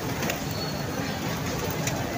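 Pigeons coo at a pigeon club loft with a tall 70-foot net in Dharampura, soft repeated coos sitting in a constant hiss of background noise at low level.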